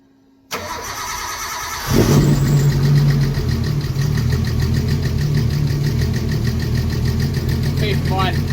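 A turbocharged car engine with noisy lifters cranks and fires up after a brief silence, then settles into a loud, steady idle with a ticking mechanical clatter, heard close up.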